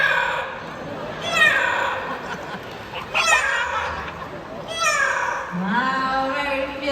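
A parrot at a bird show imitates a cat, giving several rising, whiny meow-like calls spaced a second or two apart over a noisy outdoor crowd, with people talking around it.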